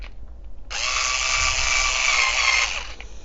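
A Promo Blister cordless screwdriver runs after its direction is reversed: quiet clicks, then a sharp start into a steady high motor whine for about two seconds before it stops.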